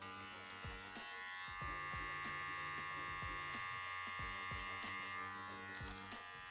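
A Wahl Senior hair clipper fitted with a 1.5 guard buzzes steadily up close during a taper haircut, with repeated soft pulses as it passes through hair.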